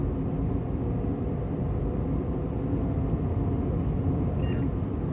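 Nissan Magnite with a 1-litre three-cylinder engine and AMT gearbox, driving on the road as the automated transmission shifts up into fifth, a steady low cabin hum of engine and road noise with no clear break at the shift.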